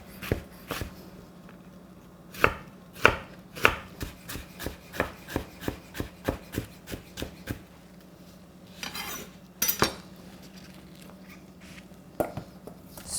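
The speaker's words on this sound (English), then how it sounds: "So you slice and make it matchstick shape. Julienne." A knife julienne-slices radish into matchsticks on a cutting board for napa cabbage kimchi, a steady run of crisp, close chops and taps, loud and alone, with a short pause and a brief scraping flurry midway.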